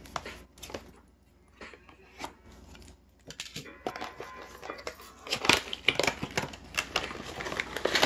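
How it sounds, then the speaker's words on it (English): Scissors snip and tear through beauty product packaging in a series of sharp, close clicks and crinkles that grow busier and louder toward the end. "I'm going to get my scissors and"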